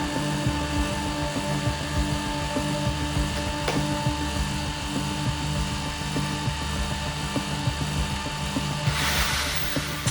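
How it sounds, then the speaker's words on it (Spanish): An electric drill, run from a generator, whirs steadily with a strong mechanical hum and tonal whine for several seconds, close and continuous, with a brief burst of hiss near the end. "Ahora conectaremos de nuevo el taladro."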